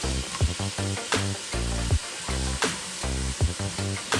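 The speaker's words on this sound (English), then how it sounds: "we're picking up all that good stuff on the bottom with the apple cider vinegar" Birria meat sizzles in a hot pan as apple cider vinegar deglazes it, a steady loud frying hiss mixed with a rhythmic musical beat.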